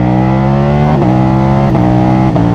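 Ducati Streetfighter V4 S motorcycle at steady high revs, with quick-shifter gear changes showing as brief dips and jumps in the engine note about every second or less, loud and close with no talk.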